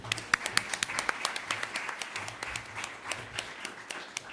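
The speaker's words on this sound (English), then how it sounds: "And another round of applause." Audience clapping at the Express Media Awards 2014 ceremony, a small crowd's steady scattered claps with sharper individual hand strikes standing out, moderately close and continuing throughout without speech.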